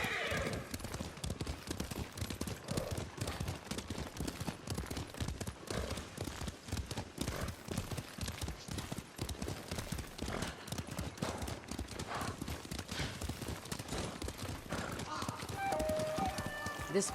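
Rapid, rhythmic hoofbeats of horses galloping in the video game Ghost of Tsushima continue throughout, with a whinny at times, quiet and steady under occasional background sounds.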